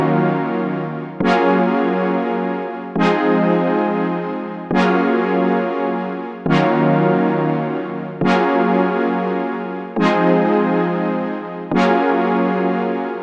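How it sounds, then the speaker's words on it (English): A synth pad chord for a 2000s-style beat, made of eight evenly spaced sustained swells, each starting sharply and fading slightly before the next one, played alone and fairly loud. "So cool vibey pad sound."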